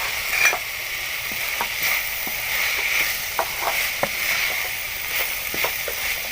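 Vegetables and chicken sizzle steadily in a pan for macaroni, with a continuous frying hiss and occasional sharp crackles and utensil stirs, fairly close and without talk.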